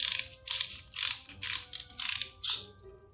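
A vintage McDonald's Halloween Happy Meal wind-up toy is being cranked up. Six quick bursts of close ratcheting clicks come in an even rhythm, with short gaps between them.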